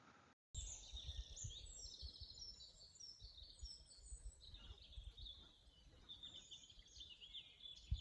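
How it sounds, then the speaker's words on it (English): Birds chirp in the trees beside a lake on the Lopautal in the Lüneburger Heide, a steady, faint chorus of high twittering calls over soft background noise. "whilst listening to the birds chirping and the wind in the trees"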